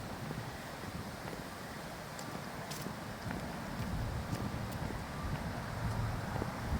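Steady wind buffets the microphone with a low rumbling roar, growing slightly stronger toward the end, with no voices present.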